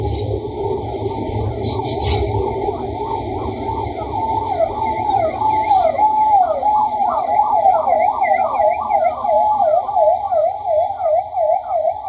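Ambulance siren wailing in a rapid up-and-down pattern on a road, growing louder and holding strong over steady traffic rumble, with a faint horn-like tone early on.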